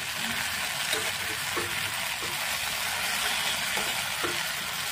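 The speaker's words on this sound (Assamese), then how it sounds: "এতিয়া ভাজিখিনি আৰু অলপ টাইম অলপ লৰাই দিম।" Okra frying in a pan, giving a steady, even sizzle with a few soft scraping stirs of a spoon at intervals, close and moderately quiet.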